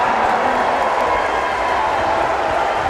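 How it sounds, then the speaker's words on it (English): A sellout crowd at an NCAA Division II men's basketball regional championship game applauding and cheering in a steady, loud, dense wash of clapping that fills the arena without a break. "And now this sellout crowd paying homage to the St. A's Hawks."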